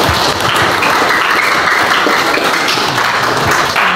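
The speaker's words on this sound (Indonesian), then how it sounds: "Kita berikan tepuk tangan dulu untuk kedua" Loud school audience applause for two student council (OSIS) candidates at a high school debate, dense continuous clapping filling the room at close range for a few seconds.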